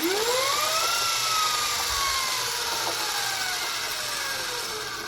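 Small electric motor powered briefly at half voltage, whining up sharply in pitch then slowly winding down, loud and close with no talk.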